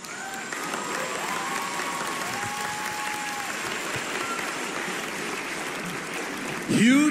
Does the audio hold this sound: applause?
yes